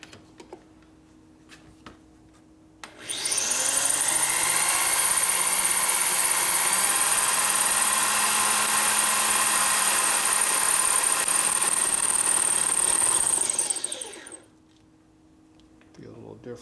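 A drill running on a 1957 Harley panhead cylinder head conversion starts abruptly, whines steadily and loudly for about eleven seconds, then stops, with quiet workshop background on either side.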